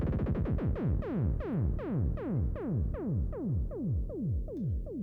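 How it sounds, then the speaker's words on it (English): Slow-down transition effect from a Codex patch: a rapid train of pulses, each sliding downward in pitch, that gradually spaces out and slows while the whole sound drops, steady and moderately loud. "So there is basically an effect of pitch shifting down, and at the same time also the rate of the patch itself slows down."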